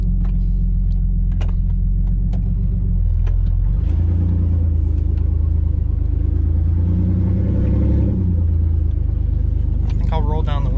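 A straight-piped GMC Sonoma pickup drones loudly from inside the cab while driving, a deep, steady exhaust rumble that swells as it accelerates, with rattles and a voice speaking over it.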